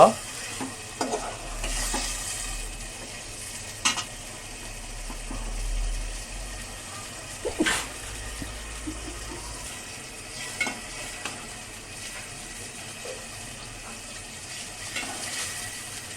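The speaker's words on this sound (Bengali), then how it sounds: "আমরা মাছটাকে কিছুক্ষণ কষিয়ে নেব" Boal river fish sautéed with spices in a pan for a curry with taro, a low steady sizzle under occasional scraping stirs and clinks, fairly quiet and close, with no talking.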